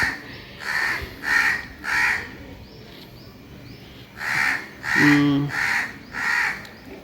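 A crow caws repeatedly in loud, evenly spaced calls, with a pause midway, over faint background hum.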